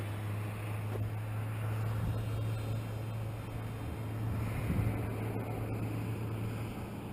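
A Micro SkyHunter RC plane on its maiden flight drones steadily at a distance, its motor a constant low hum with wind noise washing over the microphone throughout.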